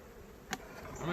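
Honeybees hum around an open hive during an inspection, a faint continuous buzz with a brief louder knock partway through.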